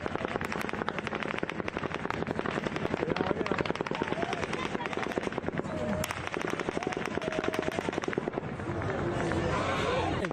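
A volley of automatic gunfire during the Las Vegas shooting rattles on without pause, dense rapid reports echoing at a distance, with frightened shouting faint underneath.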